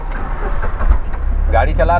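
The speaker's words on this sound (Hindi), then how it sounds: "ये गाड़ी मैं चला रहा हूँ" Car being driven by a learner practising clutch, brake and accelerator control, its engine a steady low rumble throughout with a brief rattle near the start and a voice talking over the end.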